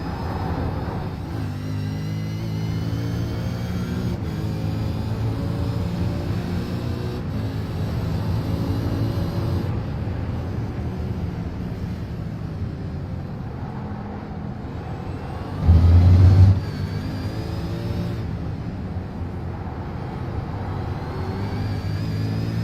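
Onboard a V8 Supercar during a racing lap, the engine drones loudly and continuously, its pitch rising and falling with shifts and acceleration, with a brief heavy thump midway.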